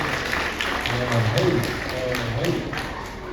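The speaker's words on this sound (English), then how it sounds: "Give yourselves a round of applause, ladies and gentlemen." Audience applause at a Native youth conference at Fresno State, a steady wash of clapping with voices and shouts mixed in, running for a few seconds at moderate volume.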